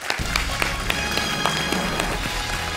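Applause breaks out on a French TV quiz show set, a dense patter of clapping hands spread across the room, steady and fairly loud throughout, with a low hum underneath.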